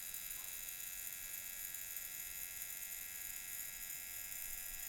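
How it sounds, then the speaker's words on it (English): A primed pump motor and impeller with a correctly tightened sensor cover run in a faint, steady, high-pitched electric whine and hum that holds constant without hitches. "this is what the sensor and motor sound like when it's adequately primed and we have the correct cover tightness"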